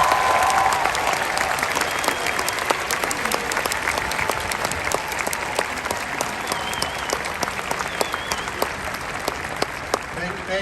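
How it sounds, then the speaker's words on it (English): Sustained applause from a large audience at a commencement ceremony, dense and even crackling claps filling the room for the whole stretch without fading, with a few scattered louder claps standing out. "please give a round of applause to everyone who got you here"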